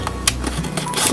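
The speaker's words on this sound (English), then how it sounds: "I'm going for the scissors." Scissors snip into the cardboard packaging of a Tiny Tukkins toy playset, making a few quick, close, crisp mechanical clicks and cuts in rapid succession, with no talking.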